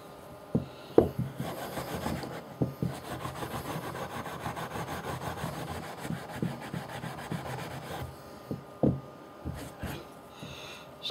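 Steel wool scrubbing refurbished bicycle parts, a bolt among them: steady close-up rasping strokes with a few sharper scrapes, repeating irregularly and heard alone.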